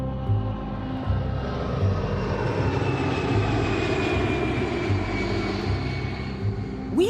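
Fixed-wing airplane engine drone heard from inside the cabin on a flight to Chongqing, a steady loud broadband roar with a faint rising whine, continuous throughout with no talking.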